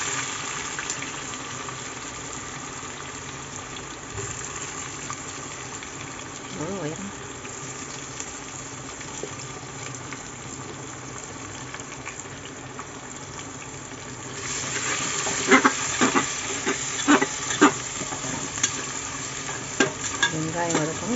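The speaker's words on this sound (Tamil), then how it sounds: "வெங்காயம் வதக்கணும்" Onions sautéing in a pan with whole spices for soybean biryani, a soft steady sizzle that grows louder with stirring and scraping clatter toward the end.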